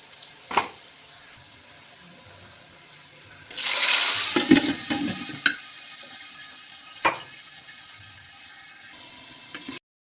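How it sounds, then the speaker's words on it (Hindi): Pulao cooks in a pan, with a burst of frying sizzle in the middle, scraping stirring clinks and occasional knocks against quiet background, the sizzle fading to a low hiss before the end. "सबसे पहले बन रहा है जी पुलाव"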